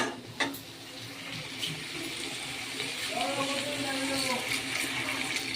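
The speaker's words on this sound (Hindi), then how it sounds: "एवं पानी ऐड करवा" Water is poured from a vessel into a pan of fried chicken for a curry, a steady splashing pour that builds into a rising filling tone, close and moderately loud, with a few clinks at the start.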